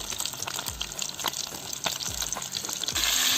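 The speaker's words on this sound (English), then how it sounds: "We just do some backyard frying. You see it, fry fish." Fish sizzles and crackles in hot oil in an outdoor backyard fryer, a steady bubbling hiss with a few louder spattering bursts, rising near the end.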